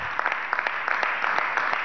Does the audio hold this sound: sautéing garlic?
no